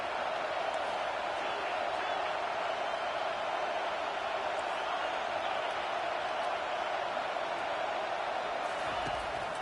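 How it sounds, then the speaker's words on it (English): Steady, dense roar of a stadium crowd at a college football game on a big third down, a loud continuous wash of cheering and noise with no breaks. "The crowd elevating its energy, willing this defense to get a stop on this big 3rd down."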